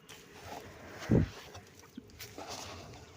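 Hens cluck softly close by, one sharper louder cluck standing out amid a few faint scattered calls and light farmyard shuffling.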